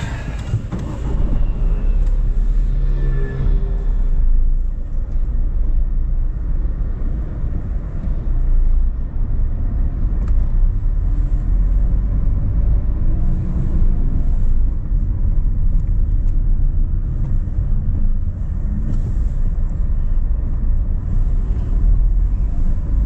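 A car drives through road traffic between Es Canar and Ibiza City, Spain, heard from inside as a loud, steady low engine and road rumble with passing vehicle noise and no talking.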